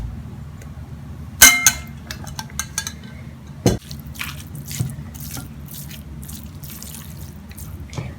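Water dripping and trickling from washed ground beef (qeema) being squeezed over a sink, with a sharp metallic clang of a bowl, scattered splashes and small drips, close by, no speech.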